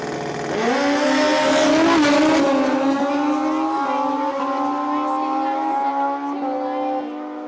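Drag racing motorcycles, one of them blue, launch and accelerate hard down a quarter-mile dragway in a points race, engines rising in a loud sustained high-revving whine that climbs in pitch and holds steady for several seconds, with faint announcer talk underneath.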